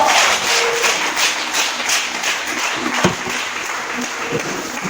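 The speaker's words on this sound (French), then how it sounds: "Acclame très fort Jésus, assois-toi." A church congregation applauding and cheering during a French-language worship service, loud steady clapping filling the room for several seconds with scattered voices mixed in.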